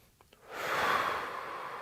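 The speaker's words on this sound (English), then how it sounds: "Take a few breaths." A person resting between exercises takes a long breath, a couple of small soft sniffs followed by one steady airy exhale, close and quiet.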